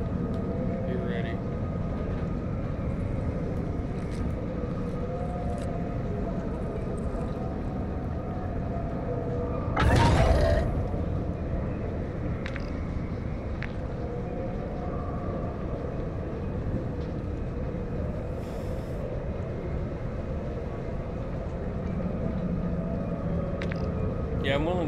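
A train rolls along in Call of Duty DMZ, a steady low rumble and rattle of rail cars that holds throughout, with one brief louder burst partway through.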